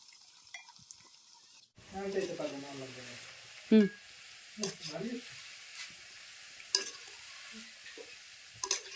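Banana pitha fritters fry in a pan with a steady, quiet sizzle. Occasional stirring scrapes and soft clinks sound over it, with faint voices in the background.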